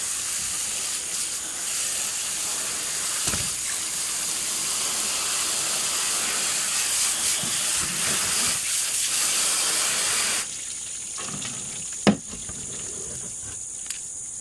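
Water spraying and rinsing fermented cucumber seeds, a loud steady hiss for about ten seconds that then cuts off, followed by quieter trickling and a brief knock.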